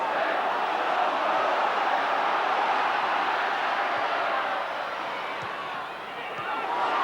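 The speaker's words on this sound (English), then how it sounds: "It's got the Norwich crowd in good voice, that break by Fleck." A football crowd roars steadily throughout at Norwich City v Liverpool, an FA Cup fourth-round match in 1990. The broad wash of cheering dips slightly near the end before swelling again.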